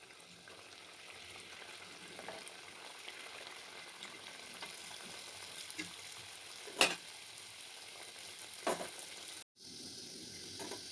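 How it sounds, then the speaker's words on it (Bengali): Litti frying in hot oil over a low gas flame makes a soft, even sizzle throughout, broken by a couple of sharp clicks and a brief dropout near the end, with no voices. "আমার এখানে তেলটা গরম হয়ে গেছে, আমি এবার লিট্টিটা দিয়ে দেবো।"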